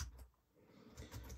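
Quiet typing on an external keyboard connected to a reMarkable tablet, a few soft clustered key taps near the start and end with a lull in between.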